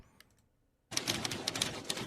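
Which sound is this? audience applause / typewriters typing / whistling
typewriters typing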